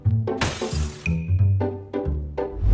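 A glass door at a train station shatters, caught on CCTV: a loud, sharp crash of breaking glass followed by a short ringing tone and several heavy low thuds, close and forceful.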